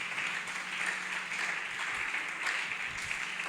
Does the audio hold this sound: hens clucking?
no